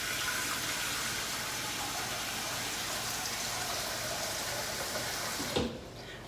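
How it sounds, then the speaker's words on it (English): Warm tap water runs into a saucepan in a home kitchen, a steady hissing, splashing stream that stops abruptly near the end. "In my saucepan, I'm going to fill it up with some warm water."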